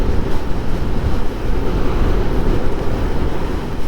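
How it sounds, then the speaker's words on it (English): Loud, steady wind rushes and buffets the microphone while riding a Zero SR/S electric motorcycle, a dense broadband roar that drowns out the faint motor, with no talking. "all I can hear is the wind rushing"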